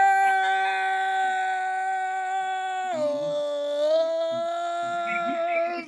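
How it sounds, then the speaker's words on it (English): A dog howls in long sustained tones with rich harmonics, the pitch dropping midway and then rising again, loud and close with no talk over it. "That's my dog."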